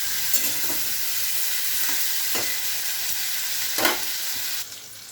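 Onions lightly sautéing in a pan at home, a loud, continuous, close sizzle with a few stirring scrapes, dropping slightly in level near the end, no voices present.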